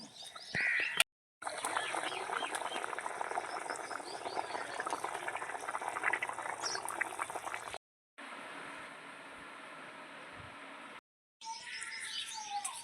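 Katla fish curry simmering in a covered pot on a village kitchen stove, a steady soft bubbling hiss that runs close and continuous with a couple of brief gaps, faint bird chirps in the background.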